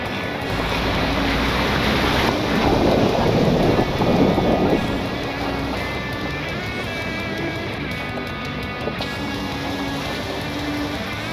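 A Jeep Cherokee XJ crawls through a river on a tight off-road trail, its engine droning steadily under loud, rushing water and broad noise, close and continuous.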